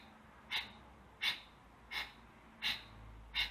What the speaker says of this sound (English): So Kapalabhati breathing looks like this and sounds like this.